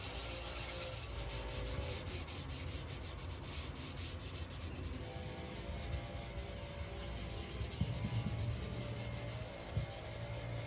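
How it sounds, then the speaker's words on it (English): Wax being rubbed by hand onto the sides of a wooden box-jointed box, a steady continuous scrubbing friction with no talk, fairly quiet and even throughout with a couple of slightly louder strokes. "I use traditional wax on the box sides because it dries with a very light neutral finish."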